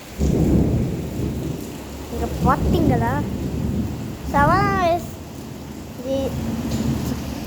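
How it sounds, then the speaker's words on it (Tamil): A thunderstorm with steady rain and rumbling thunder fills the scene, a close, continuous wash of rainfall under occasional low thunder, while a person speaks briefly over it. "மின்னல் அடிக்கிறா, சீக்கிரம் எடுத்துட்டு உள்ள வந்துடு."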